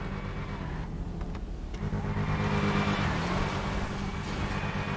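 A car driving in a video game: a steady engine hum that swells as it accelerates, loud and close, continuous throughout.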